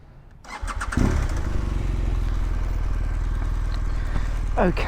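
A BMW R1200GSA adventure motorcycle starts at a fuel station after refuelling, the starter catching after about a second and settling into a steady, loud, close idle.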